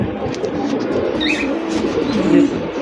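Pigeons at a sale cooing with soft, low repeated calls over a steady background murmur, alongside a few higher chirps, fairly close and continuous.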